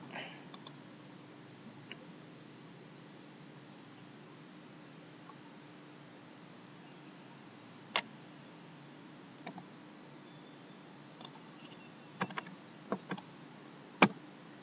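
Sparse, faint mouse clicks in a Joomla admin page, a few isolated clicks and small clusters over a steady low hum, with no talking.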